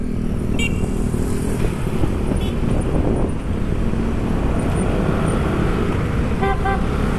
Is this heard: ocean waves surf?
no